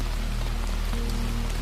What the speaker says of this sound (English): The rain slid down the glass in thin, constant trails